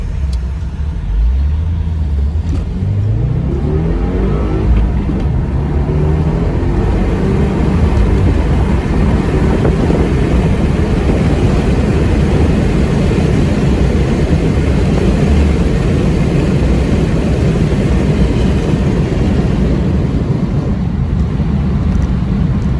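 A 2018 Subaru WRX with a manual gearbox is driven hard on a track, its engine revving up at first and then holding a loud, steady rumbling drone with road noise throughout.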